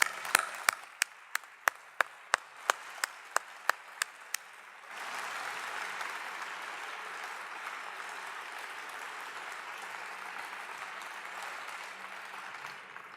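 A few sharp isolated claps ring out at a conference opening ceremony, then the audience breaks into broad sustained applause for the organizing team, moderately loud and steady to the end.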